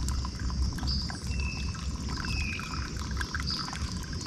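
Water being poured and stirred over coffee grounds in a kitchen, a soft steady trickle and slosh with faint liquid movement, quiet and close with no talking.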